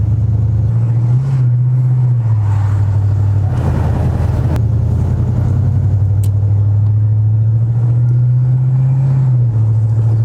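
A 1972 Chevy El Camino engine, once abandoned and stored in a garage, runs steadily while the car drives, giving a loud continuous low rumble and drone with slight shifts in pitch as it goes along.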